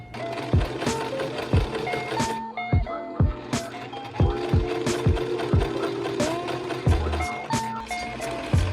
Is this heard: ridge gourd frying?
no